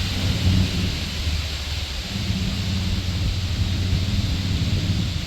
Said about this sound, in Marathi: तिथल्या पानांची सळसळ ऐकायला आली तुम्ही पण ऐका